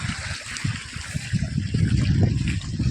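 Water runs full along a farm irrigation channel, a continuous close gurgling and trickling flow with low churning rumble, steady and unbroken with no voices.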